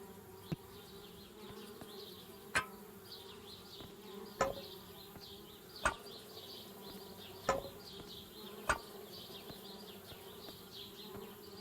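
Bees buzz steadily around a treehouse in a point-and-click adventure game, a close, continuous insect drone punctuated by several sharp clicks spaced a second or two apart, with no talking.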